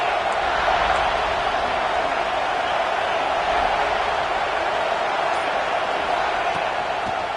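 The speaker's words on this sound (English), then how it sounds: "This crowd ready to make its presence known." A college football stadium crowd for the USF Bulls sends up a steady, loud, diffuse roar that holds evenly from start to finish, with no single voices standing out.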